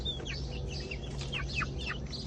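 Chickens in a backyard coop give short chirping and clucking calls over a steady low hum of background noise, moderately close and fairly quiet.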